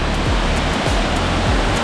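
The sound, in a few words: waterfall rushing fast after rain upstream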